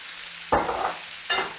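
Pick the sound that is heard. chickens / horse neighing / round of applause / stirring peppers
stirring peppers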